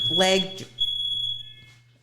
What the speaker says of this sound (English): That is a fire alarm. Probably next door or something